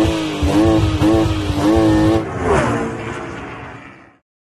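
BMW X6 50i (F16) with a 4.4-litre biturbo V8, loud and close as it revs in rising and falling pulses, then swells into a throaty acceleration that fades away, with no voices.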